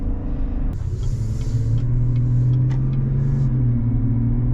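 A 2022 GMC Sierra 1500 with the 6.2 V8 accelerates hard, its deep engine drone rising in pitch and swelling over a few seconds under steady road rumble, with a few faint knocks along the way.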